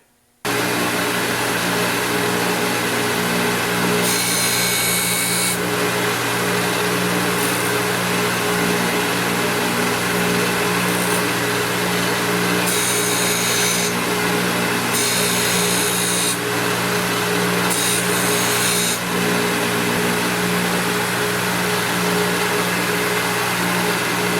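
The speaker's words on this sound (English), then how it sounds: "I'm going to be surface grinding the balance of the parts." Surface grinder working metal parts in a shop, a loud, steady whine and rumble that starts abruptly and runs continuously, with brief brighter hissing passes as the wheel sweeps across the workpiece.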